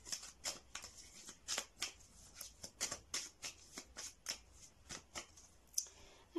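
Tarot cards handled and laid out on a surface, a steady series of about fifteen crisp, close snaps and slides with no one speaking.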